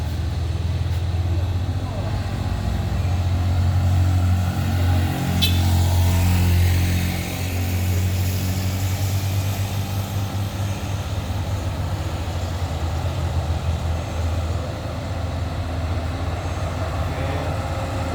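A Colt Diesel truck engine labors hard up a steep climb, a loud, steady low diesel drone that holds without a break from start to finish.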